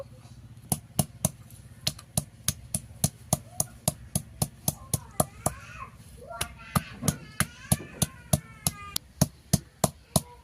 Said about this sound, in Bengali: এখানে আমি 3টে ছোট ছোট পেঁপে নিয়ে নিচ্ছি, বেটে নেব।